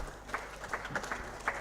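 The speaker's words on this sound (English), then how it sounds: "Once again, another round of applause for" Sparse, scattered handclaps from a small audience at a food security and nutrition meeting on Karamoja, following a presented report; about five faint, separate claps over a quiet room background.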